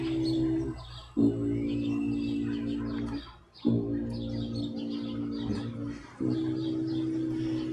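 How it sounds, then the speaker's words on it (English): Faint bird chirps flutter in short bursts over a loud, steady engine drone that cuts out and restarts several times. "There's another bird that flew by."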